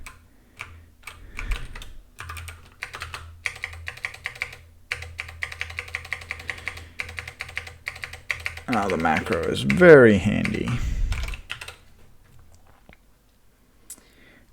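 Keys clatter on a mechanical keyboard in quick, uneven bursts of sharp clicks. The typing runs steadily, then a person speaks briefly over it near the end.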